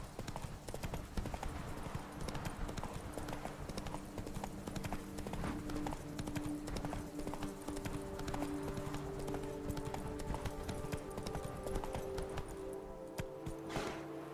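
Horse hooves clip-clop steadily at a walking pace in The Witcher 3: Wild Hunt, Blood and Wine, a close, even rhythm of hoof beats that carries on throughout alongside faint game sounds.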